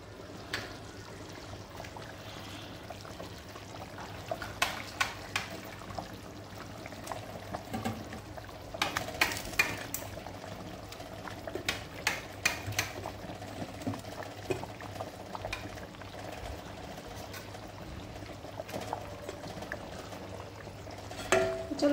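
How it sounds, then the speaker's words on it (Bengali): Eggs frying in a pan in a home kitchen, a steady soft sizzle and bubbling with scattered sharper pops and crackles bursting through at irregular moments. "এবার আমি ভাজা ডিমগুলো করে দেবো।"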